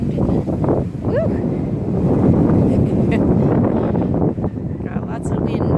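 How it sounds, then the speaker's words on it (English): Strong wind buffets the microphone outdoors around a cottage garden, a loud continuous rumbling gust throughout, with a brief voice exclamation near the start. "Got lots of wind today."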